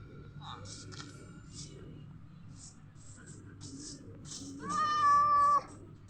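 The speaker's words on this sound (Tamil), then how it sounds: "இந்த பூனை பேர் கருப்பாக வச்சேன், ஏன்னா கருப்பு கலர் லைட்டாக இருக்குது" A cat in the Minecraft video game gives one clear, drawn-out meow near the end. Before it come soft scattered game sounds and quiet background noise.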